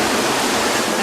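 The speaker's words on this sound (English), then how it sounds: "the waterfall" A waterfall roars in a dense, steady broadband rush, loud and unbroken from start to end with no voices.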